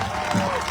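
Brief burst of audience applause at a direct-selling company motivational speech, a short patter of clapping mixed with a voice, fairly steady in loudness.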